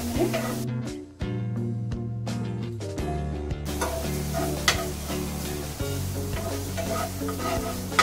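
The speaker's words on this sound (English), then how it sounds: "Now we are going to add the chopped cabbage and let it cook for around" Chopped cabbage cooking in a pan with onions for veg wheat momos, a loud, continuous sizzle and crackle with utensil scrapes and stirring clatter, close up, over steady background music.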